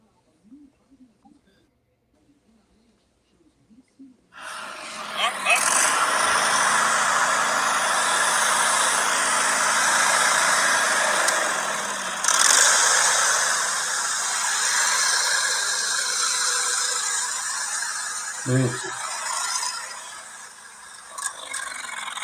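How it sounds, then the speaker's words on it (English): After a few seconds of quiet, an engine that is running out of fuel bursts into loud rough running, surging and dipping unevenly with brief drops, a faint voice briefly heard at the start. "It really sounds like it's running out of fuel."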